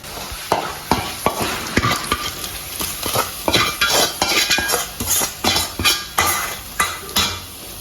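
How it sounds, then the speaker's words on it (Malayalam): Dried red chillies frying in a pan while a metal spatula stirs them, giving close, rhythmic scraping clatters in quick repeated strokes over a steady sizzle, loud and with no talking. "അങ്ങനെ നമ്മൾ നന്നായിട്ട് ഇളക്കി മൂപ്പിച്ചു കൊടുക്കുക."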